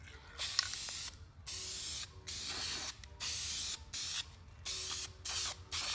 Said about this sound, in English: so I only need to spray this in the areas that need it